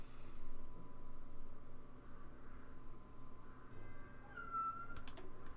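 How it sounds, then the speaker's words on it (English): A cat meowing outdoors, faint and distant, heard during a Hearts of Iron 4 gaming session over a steady background hum, with a brief brighter cry and some soft clicks near the end. "That's one of my cats meowing outside."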